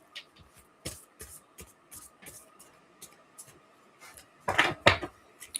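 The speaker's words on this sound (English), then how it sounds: "I'm trying to shuffle them gently." Oracle cards being gently shuffled by hand, soft scattered papery flicks and taps close by, quiet and irregular, building to a denser cluster of riffling near the end.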